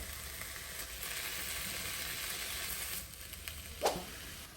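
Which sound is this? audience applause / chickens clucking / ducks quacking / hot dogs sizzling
hot dogs sizzling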